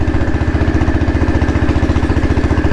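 A restored Royal Enfield Bullet with a CI engine idles loudly and close by, thumping in an even, rapid rhythm with a mechanical clatter over the low exhaust beat.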